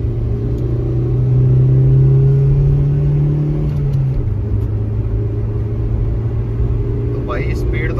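A Suzuki SX4 ZXI 1.6 accelerates hard on an open highway, its engine droning loud and close as the pitch climbs steadily, then drops at a gear change before pulling on. Someone talks over the engine.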